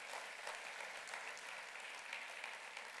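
Steady applause fills the hall at a congress, a dense, even wash of clapping from a sizable crowd that holds at constant loudness throughout with no talk over it.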